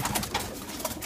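Pigeons coo in a racing pigeon loft, a soft, steady murmur of several birds with a few louder coos rising over it, close by and continuous throughout.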